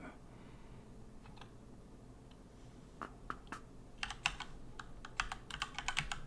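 Someone types on a computer keyboard at a desk, starting with sparse isolated key clicks and building into a quicker, irregular run of close, crisp keystrokes over quiet room tone.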